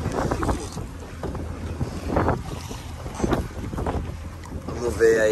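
A fishing boat moves on the open sea off Aracaju, giving a rushing hull-and-wave wash with heavy wind buffeting the microphone, loud and continuous, and a voice briefly speaks over it.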